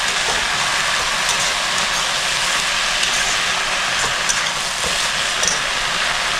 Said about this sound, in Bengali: আমি শাকটা মিক্স করে নিচ্ছি।